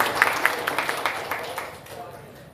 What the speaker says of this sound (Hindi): उनका भी जोरदार तालियों से स्वागत करें